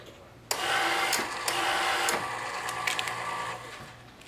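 A 3D printer running on a new printer mounting system gives a steady mechanical whir and hum with shifting motor tones, close and moderately loud, with brief clicks and pitch changes as the head moves.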